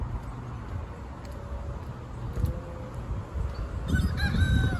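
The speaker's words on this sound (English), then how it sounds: "oh, the roosters are back." Roosters crowing in a creekside village, harmonic calls rising near the end over steady flowing water and a low outdoor background.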